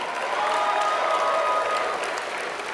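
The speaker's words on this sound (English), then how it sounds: "I'd like to invite the members of the graduating class to reciprocate by applauding your family, your friends, the faculty and staff" Graduating class at a university spring convocation ceremony applauding their families, friends, faculty and staff, a sustained dense clapping from a large crowd filling the hall at steady loudness throughout.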